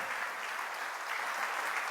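A church congregation applauds during a Spanish-language sermon, a steady wash of clapping at moderate distance that holds evenly throughout with no voices on top.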